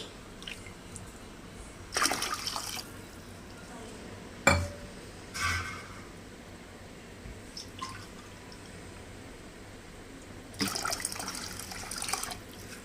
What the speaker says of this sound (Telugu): 2 కప్స్ బియ్యంకి 3 కప్స్ వరకు వాటర్ యాడ్ చేసుకోవాలి